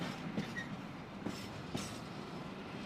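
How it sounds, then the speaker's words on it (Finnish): A train rolls past fairly close under steady broad rumble, with faint wheel clicks and brief squeals, ahead of a Helsinki-bound train. "sieltä on Helsingin juna tulossa minuutin päästä"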